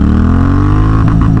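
A Honda CTX700 motorcycle fitted with a K&N air filter accelerating hard, a loud close engine drone whose pitch climbs steadily through the gears.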